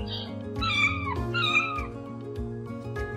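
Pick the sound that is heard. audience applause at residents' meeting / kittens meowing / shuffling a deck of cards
kittens meowing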